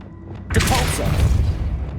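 A Depulso force spell from Hogwarts Legacy lands as one sudden, heavy boom after a brief quiet lead-in, followed by a sustained low rumbling tail.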